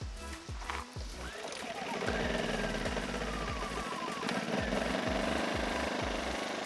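A Champion 2000-watt generator, choke pulled out and fuel turned on, catches and runs with a loud, rapid low thumping that steadies into a continuous engine drone.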